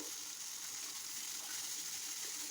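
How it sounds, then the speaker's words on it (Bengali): Okra coated in spice paste fries in hot oil in a pan, a steady close sizzle with a soft bubbling hiss and no talk. "এখন আমি দিয়ে দিচ্ছি ভেন্ডি, মাখানো ভেন্ডি দিয়ে দিয়েছি। এই তেলের মধ্যে কিছুক্ষণ ভেজে নেব"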